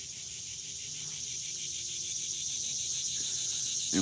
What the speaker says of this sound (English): Them cicadas are definitely loud.